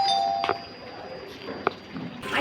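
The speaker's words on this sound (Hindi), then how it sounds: "डोरबेल बजाओ।" A house doorbell in a residential colony chimes twice, a clear ding-dong ringing out over a quiet room hum, with a third chime starting at the end.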